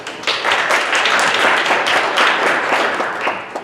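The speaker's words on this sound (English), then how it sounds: "You know that means you have to clap every time" An audience in a university recital hall applauds, a loud and sustained burst of dense clapping that fades slightly toward the end.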